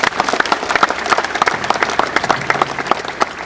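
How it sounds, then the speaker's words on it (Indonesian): Crowd clapping at the inauguration of a sports field in West Papua, with loud, distinct individual claps in a brisk, uneven patter close by. "tepuk tangan dulu"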